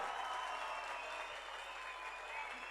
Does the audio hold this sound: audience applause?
yes